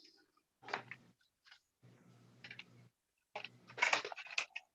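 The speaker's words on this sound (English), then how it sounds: "The good news is my snacks are very healthy, such as blueberries." Blueberries are chewed as a snack close to the microphone, in several short bursts of soft, wet mastication separated by brief silences, with no talking.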